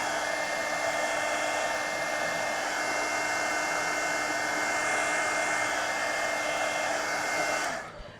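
Hair dryer blowing steadily on a mixed media journal page, a loud constant whir held close for several seconds before it switches off at the end.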